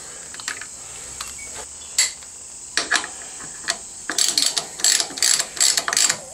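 On an Africa Twin motorcycle, a ratchet tightens the rear brake's Allen bolt after a few scattered metallic clicks, then cranks in quick, close, crisp bursts of ratcheting.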